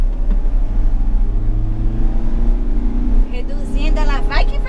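A 2017 Mercedes-Benz Sprinter van's engine drones steadily while climbing a ramp in third gear, a loud continuous low hum with someone talking over it throughout.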